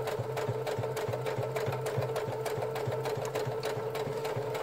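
Sewing machine stitching bias binding onto fabric, a steady close mechanical whir with a fast regular needle beat running throughout, with no speech.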